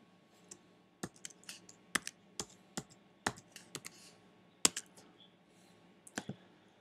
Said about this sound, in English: Type in the product number